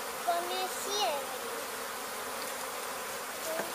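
A honey bee swarm from a removal job in Weslaco, Texas hums faintly and steadily throughout, with a few brief thin tonal chirps rising above the drone.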